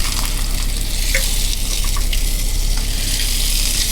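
Steak frying in butter in a pan inside a small converted camper, a steady close sizzle with faint scraping clicks, heard alone without talk.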